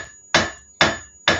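A blacksmith's hammer drops onto an anvil three times in an even rhythm, each a sharp ringing clang with a short metallic decay, loud and close, no talking.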